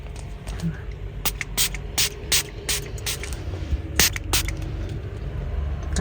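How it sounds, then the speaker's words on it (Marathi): Several short, sharp hissing bursts of car perfume spray, some in quick pairs, over a steady low background hum. "ते कार परफ्यूम हा संपला ना तर मग हा याच्याने असं नॉर्मल आपण स्प्रे करू शकतो"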